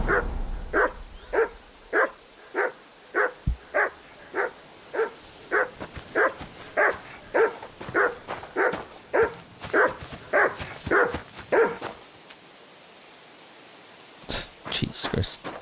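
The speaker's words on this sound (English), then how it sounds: "what the hell is this dog?" A dog barks in Kingdom Come: Deliverance II, a steady string of about twenty evenly spaced woofs, fairly close and prominent, followed by a few quicker sharp yaps after a short pause.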